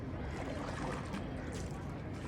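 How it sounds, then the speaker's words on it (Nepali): A boat on Phewa Lake in Pokhara moves along with a soft continuous rumble and faint water wash, fairly quiet, with people talking nearby. "फाइनल्ली हामी फेवातालको डुङ्गा"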